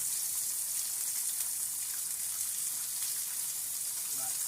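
Shrimp sautéing in a skillet for a tomato, basil and garlic pasta, producing a steady hissing sizzle, close and even, with a hint of voice near the end.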